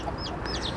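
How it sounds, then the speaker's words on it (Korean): Hen clucking in a chicken coop with a newly hatched black chick nearby, soft close clucks and faint high peeps running steadily through the short stretch, no talking. "병아리 소리 들리시나요?"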